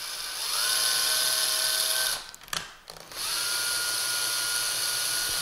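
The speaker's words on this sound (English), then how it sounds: "So I use a slow drill for that." A slow power drill driving a tap to cut threads into a 3D-printed case for a Raspberry Pi Model A+, a steady close motor whine that stops briefly mid-clip, then resumes and runs on.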